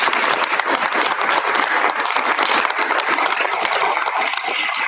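Sustained, dense applause fills a school board meeting room for a departing district staff member, a loud, even wash of many hands clapping for nearly five seconds without a break.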